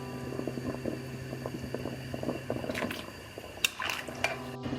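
Chickpea noodle soup at a boil in a pot, with bubbling, popping and small liquid splashes over a steady hum, plus a few sharper clinks near the end.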